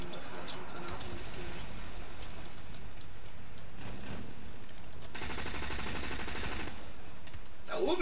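Bursts of M27 IAR automatic rifle fire in the Battlefield Play4Free shooter game, a dense crackle of rapid gunfire running steadily throughout with a heavier stretch midway, under game noise.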